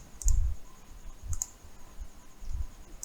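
Three sharp computer mouse clicks, evenly spaced about a second apart, close and quiet with no talking, as a Windows 11 bootable USB pendrive is prepared.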